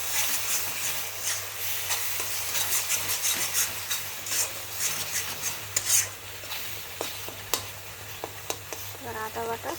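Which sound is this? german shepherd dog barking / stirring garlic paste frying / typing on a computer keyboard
stirring garlic paste frying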